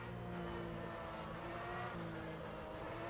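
Corvette GT3 race car in rFactor 2, its engine droning at steady high revs with a constant buzzing tone, moderately loud and continuous with no talk.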